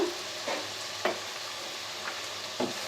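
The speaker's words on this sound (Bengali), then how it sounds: "কষিয়ে নেব যাতে করে পেঁয়াজের কাঁচা গন্ধটা চলে যায়" Sliced onion frying in oil with cardamom, cinnamon, peppercorns and a bay leaf for biryani, a low steady sizzle punctuated by a few light spatula scrapes against the pan.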